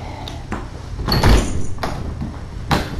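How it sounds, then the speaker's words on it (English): A door opens indoors with a few separate knocks and thumps, the loudest near the middle and another near the end, over a low steady room hum. "Was that the door opening?"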